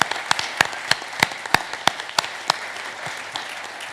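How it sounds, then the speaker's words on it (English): Applause for the organizers at a developer conference Q&A panel. Sparse, distinct hand claps ring out near the microphone in a loose regular rhythm over a quieter spread of clapping, thinning out toward the end. "So please, a round of applause."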